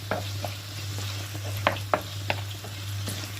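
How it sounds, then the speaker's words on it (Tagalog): Baguio beans and ground beef seasoned with ground pepper and salt are stirred in a pan, with a steady sizzle and a few sharp spatula scrapes over a constant low hum, close and without talk. "Haluin."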